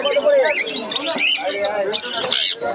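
Long-tailed finches at Serampore pet market chirp and tweet in a dense, overlapping chatter of short, high calls, close and fairly loud.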